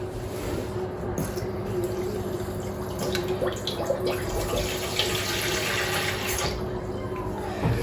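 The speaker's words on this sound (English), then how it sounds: "take some kind of oven-proof container and fill it half full with water." Tap water running into an oven-proof container being filled halfway, a steady close splashing stream with small drips and clinks and no talk.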